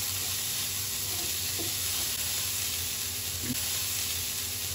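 Poha and chopped coriander stirred together with a fork in a hot pan, a steady loud sizzle and hiss with a few faint scraping stirs, no talking.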